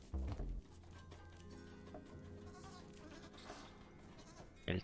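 Goats bleating in the puzzle game Creaks, a short bleat at the start and another at the very end, set against quiet, tonal, humming background music.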